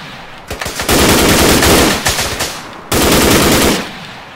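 Automatic gunfire rattles in two loud, close bursts during a firefight in the video game ArmA 3, with faint shots before the first burst.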